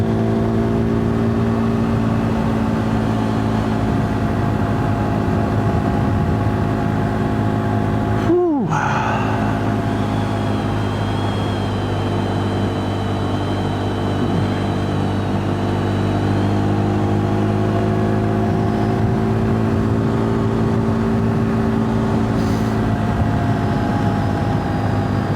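A KTM 390 Duke single-cylinder motorcycle cruises along a country back road with a steady, loud engine drone and wind rush, its pitch shifting briefly once mid-ride before settling back into a constant hum.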